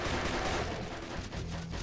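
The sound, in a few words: gunfire from an enemy weapon in a video game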